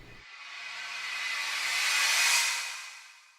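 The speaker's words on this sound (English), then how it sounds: "I've got this thing, which is just like a riser." A noise-based riser effect with reverb, as used in music production, swells steadily from soft hiss to a bright rushing peak, then fades away, with no talk over it.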